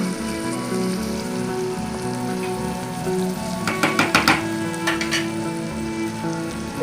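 Onion and salted dried ghee fish (karuvadu) sizzle on a simmer in a pan, a steady soft frying hiss with a few clattering stirs partway through.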